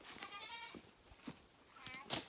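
A young goat on a farm in Portland, Jamaica, gives a few short, wavering bleats close by, with a faint voice underneath.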